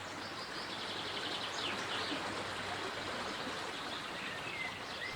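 Babbling stream in a calm outdoor setting, a steady soft rush of flowing water with faint bird chirps scattered through it, continuous and fairly quiet with no voices.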